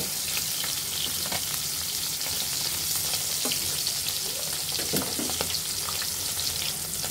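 Large native puti fish sizzle in hot oil in a pan, a dense continuous crackle with sharp pops scattered throughout, close and steady with no talk.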